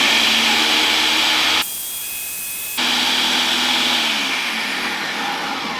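A Ninja Foodi blender runs on high speed through wild garlic pesto, giving a loud, steady whirring roar that drops briefly to quieter churning before surging back to full power and holding.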